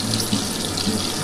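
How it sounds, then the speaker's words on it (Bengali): A little butter goes into hot oil in a pan before paneer is fried, making a steady, close, hissing sizzle with no pauses. "এই তেলের মধ্যে আমি অল্প একটু এই যে বাটার দিয়ে দিচ্ছি"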